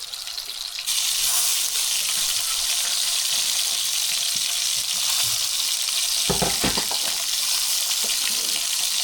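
Eggs frying in a pan give a loud, dense, continuous sizzle that starts abruptly after a quieter first second, with a brief knock or clatter near the middle and no talking.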